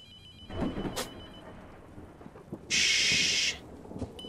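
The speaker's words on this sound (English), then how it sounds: "The phone is ringing." A telephone rings inside a horror video game set in an abandoned place: one loud, steady electronic ring burst stands out over a low rumbling ambience, with fainter rustles before it.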